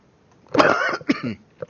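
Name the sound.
coughing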